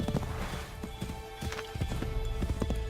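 Hooves clop at a brisk riding pace in Assassin's Creed III, close and steady over a dense game background.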